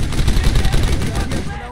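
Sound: gunfire in the video game Brothers in Arms: Hell's Highway

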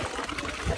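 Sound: horse drinking water

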